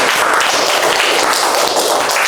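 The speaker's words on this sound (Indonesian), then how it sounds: "Oke, kita kasih tepuk tangan yang meriah untuk kelompok 1." A classroom of students claps for a group, producing a dense, even wash of loud applause that runs unbroken throughout.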